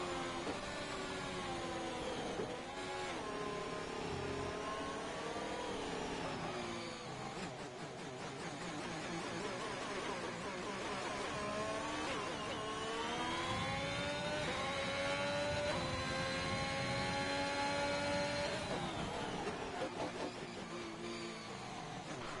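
Engine note of an F1 car lapping the Chinese Grand Prix circuit in F1 2021, a continuous high-pitched whine that climbs and drops through gear changes, loud and steady for the whole stretch with no talking.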